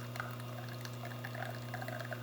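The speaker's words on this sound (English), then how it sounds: "We're just making sure, one, the pump is running right, two, you're getting water into your group head" A Lelit Bianca V3 espresso machine pumps water through its group head, a quiet steady hum with faint trickling and dripping liquid above it, close and continuous.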